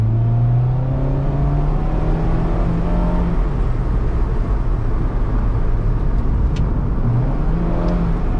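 Mazda MX-5 Miata RF GT automatic accelerating through a corner, a steady engine drone with rising harmonics under road and wind noise, close from inside the cabin.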